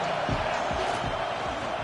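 A stadium crowd in College Football 26 keeps up a steady, loud roar with rhythmic low thumps of stomping or chanting running through it, while play-by-play commentary talks over it.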